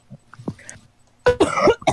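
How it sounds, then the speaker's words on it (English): A person coughs sharply a few times up close, short harsh bursts after a quiet stretch with faint rustles. "Cause I'm coughing."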